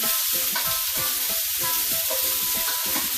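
Carrots and celery sauté in a hot pan for a turkey gizzard soup, giving a steady, loud broadband sizzle with repeated scraping stirs of a utensil. No one speaks.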